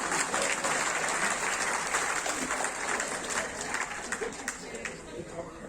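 An audience at a Kannada comedy festival claps in a sustained, even wash of applause, fairly distant, with a voice talking over it.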